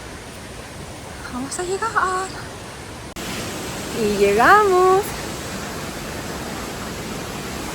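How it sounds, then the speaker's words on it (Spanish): Salto el Calzoncillo, a tall waterfall in Chile, roars as a steady broadband wash heard from near its base, continuous throughout while people speak briefly over it. "Y ya se ve la cascada."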